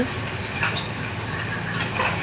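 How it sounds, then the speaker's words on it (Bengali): Small fish frying in a pan of hot oil, a steady close sizzle and crackle with a couple of faint stirring or utensil clinks. "এই যে মাছ ভাজা হচ্ছে"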